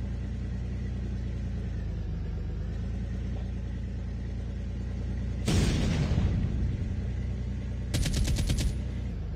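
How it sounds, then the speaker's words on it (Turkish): A low engine rumble of a tank closing in during a Call of Duty Mobile battle royale match, with two sharp bursts of automatic gunfire cutting in near the end over the steady heavy drone. "Tank geldi vallahi dibimize."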